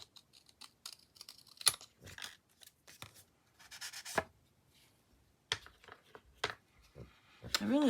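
Scissors cut paper for a junk journal cover, giving irregular crisp snips and rustling sheet handling at close range, without talk.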